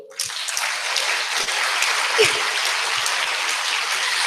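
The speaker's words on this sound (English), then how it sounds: "you'll have to clap as hard as you can" Workshop participants at an Ayurveda and wellness session clap their hands as hard as they can, a dense, loud wall of applause from a group that starts abruptly and holds steady without pause.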